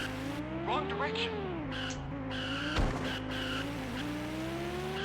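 A race car in an F1 racing video game spins and skids, its engine wailing with shifting pitch while tires squeal and a sharp crash-like burst lands midway; the sound runs loud and continuous.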